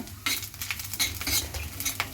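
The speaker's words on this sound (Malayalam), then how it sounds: "ചുവക്കുന്നത് വരെ നമുക്കിത് ഇളക്കി വറുത്തെടുക്കാം" Grated coconut being stirred and roasted in a pan over a low flame, with rapid scraping strokes of a spoon against the metal over a light crackle, close and busy, no voices.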